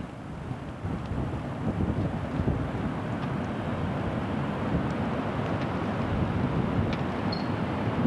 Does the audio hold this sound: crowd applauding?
no